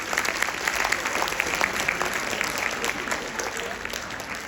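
University audience at a spring campus tour event breaks into applause, a sustained crowd of many hands clapping loudly and evenly for several seconds without speech.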